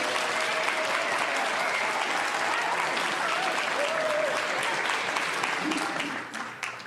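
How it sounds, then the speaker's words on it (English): A crowd claps steadily and loudly for several seconds, a dense wash of applause that tapers off near the end. "I'd like to ask the community to kind of applaud"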